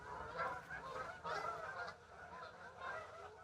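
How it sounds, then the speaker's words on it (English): Geese honk repeatedly in a loose, overlapping chorus, somewhat distant and faint over a soft background hiss. "These geese, they sound pretty goofy"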